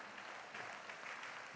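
A conference crowd in a church setting claps for the technical team, dense continuous clapping that swells slightly midway and holds at a fairly even level throughout.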